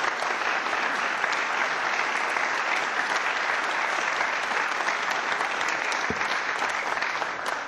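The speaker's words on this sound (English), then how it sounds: "So if we could give them a big round of applause, I would appreciate that" Council chamber audience at a city council meeting gives a full round of applause for an executive team and employees, steady dense clapping throughout that tapers only at the very end.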